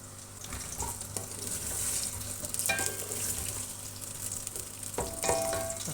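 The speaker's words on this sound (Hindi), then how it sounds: "अब ये पहले प्याज डालूँगी।" Onions frying in plenty of oil for chicken pulao crackle and sizzle steadily up close, with occasional sharper stirring scrapes over the continuous hiss.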